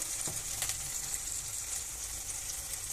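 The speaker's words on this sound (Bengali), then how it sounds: "এই ফোড়নটা কিছুক্ষণ নাড়বো যতক্ষণে টমেটো থেকে কাঁচা গন্ধটা চলে যাবে" Spices tempering with tomato in a pan being stirred for chana masala, a steady soft sizzle with a few faint scraping taps of the spoon, no talk.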